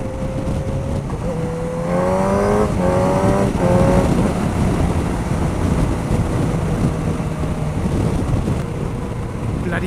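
A BMW car passes close by a Suzuki GSX-S1000 motorcycle on the road, its engine note rising and falling over steady wind rush and the bike's own drone, with no talking.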